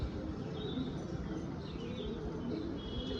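Pigeons coo softly over a constant wash of outdoor background noise, with a few faint chirps scattered through the brief stretch.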